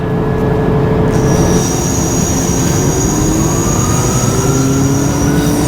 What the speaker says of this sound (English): So we've just left Bristol Temple Meads, bound for Weymouth